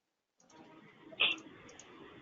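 A single sharp computer mouse click, close and distinct, over a faint steady room hiss while a user sets up a post processor in CNC profiling and nesting software.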